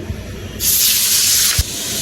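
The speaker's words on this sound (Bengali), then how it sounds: "এখন কিন্তু মাছটা আমি বাইজা নিমু" Magur catfish dropped into hot oil for frying, ahead of a potato curry, gives a sudden loud broadband sizzle that holds steady for over a second after a faint thump, then a sharper knock as it tapers slightly.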